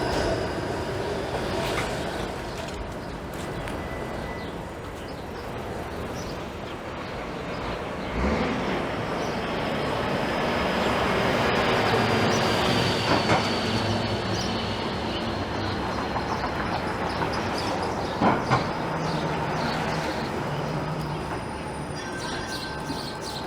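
A Toronto 506 Carlton streetcar rolls along Queen Street East in Leslieville on a spring day. A steady rumble of rail and motor noise with wheel squeal and clicks swells and lingers close by throughout.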